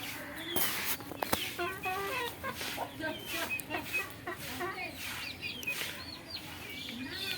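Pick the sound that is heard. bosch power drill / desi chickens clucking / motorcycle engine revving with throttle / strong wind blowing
desi chickens clucking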